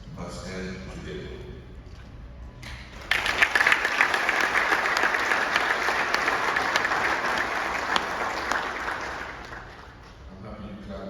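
Sustained audience applause breaks out in a hall after a speech by Ghana's President to CEOs of state entities, a steady dense clapping that swells for several seconds and then tapers, with a voice speaking before and after it.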